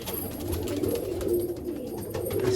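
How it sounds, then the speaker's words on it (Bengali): Male Malwai pigeon cooing continuously at close range, a steady low throaty coo with a faint background hiss. "এই দেখুন, এটাও একটা নর পায়রা।"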